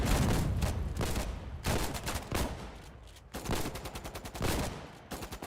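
Shotgun blasts and rapid gunfire from a Warden in Foxhole crack out in loud, close bursts with short gaps between them, ending in a fast run of repeated shots.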